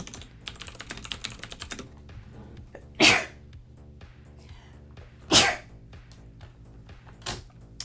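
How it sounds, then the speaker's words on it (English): Two sharp, close sneezes burst out a couple of seconds apart over light, steady computer keyboard typing. "I'm gonna sneeze again."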